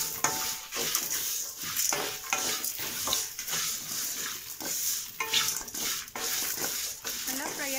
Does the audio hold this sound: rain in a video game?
no